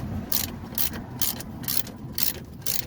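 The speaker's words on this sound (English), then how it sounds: "you should be able to loosen the bolt" Ratcheting 18 mm wrench loosening a brake caliper bolt on a C5/C6 Corvette, a close, steady series of about seven rhythmic ratchet clicks and swings in under three seconds.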